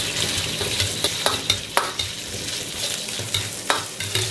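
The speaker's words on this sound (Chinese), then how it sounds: "将肉片炒香炒出油" Pork slices stir-frying in hot oil in a wok make a continuous crackling sizzle, punctuated by repeated sharp scraping strokes of the spatula at an uneven rhythm, close and fairly loud.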